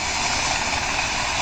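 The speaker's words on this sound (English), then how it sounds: "There's the tractor that's running the corn sheller" A tractor engine drives a corn sheller at a farm threshing show in Fort Ransom, making a loud, steady roar and rumble with dense mechanical noise throughout and no voices.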